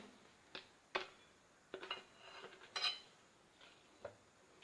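Banana cake batter is folded in a bowl, with faint, scattered clinks and scrapes of a spoon against the bowl in a quiet room, spaced irregularly.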